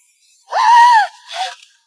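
A woman's loud, drawn-out scream of terror in the horror film Ju-on 2, followed by a shorter, weaker cry after a brief pause.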